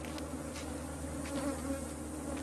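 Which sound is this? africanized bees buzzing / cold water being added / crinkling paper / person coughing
africanized bees buzzing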